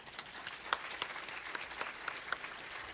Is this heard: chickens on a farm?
no